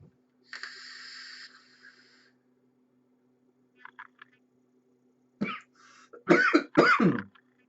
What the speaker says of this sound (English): Sorry, that coughing there.